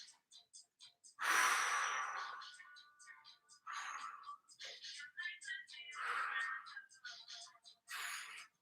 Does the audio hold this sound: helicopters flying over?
no